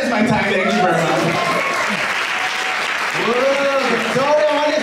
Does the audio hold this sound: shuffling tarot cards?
no